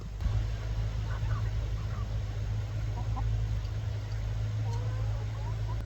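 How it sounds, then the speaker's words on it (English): Chickens and a rooster in a free-ranging flock make faint, scattered calls over steady low background noise. "Oh, you little rooster."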